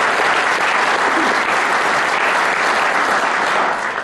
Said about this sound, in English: You can clap for that one.